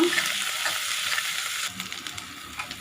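Green chili paste mixture fries in a hot pan, giving a close, continuous bright sizzle with a few stirring scrapes, then a crackling burst partway through.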